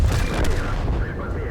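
Tank cannon blasts in World of Tanks, with a T-34-100 Russian heavy tank in play, a loud booming shot up front followed by rumbling battle noise and lighter distant gunfire across the moment.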